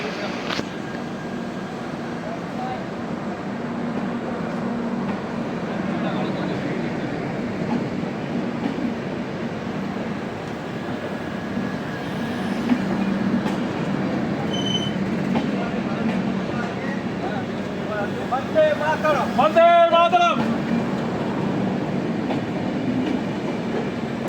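The 13115 Sealdah–Jalpaiguri Road Humsafar Express runs past near Ranaghat with a loud, continuous rumble and wheel clatter, and a brief horn-like blast near the end. Faint voices may sit under the noise.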